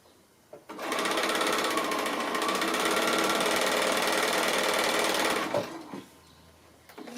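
Home sewing machine chain piecing quilt squares at a regular stitch length with a quarter-inch foot: a steady, close, fast mechanical whirring hum lasting several seconds, then stopping with a faint click.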